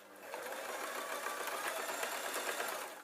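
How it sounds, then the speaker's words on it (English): A sewing machine stitches fleece for a tablet sleeping bag, including a few reverse stitches, running in a steady, continuous whir at close range for the whole stretch with no talking. "So reverse stitch off the first one, and then I can just sew straight onto this second one."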